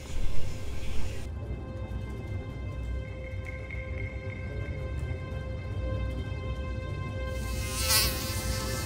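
A steady, thin buzzing of an Aedes aegypti mosquito hums on without pause for several seconds, close by, over faint background noise.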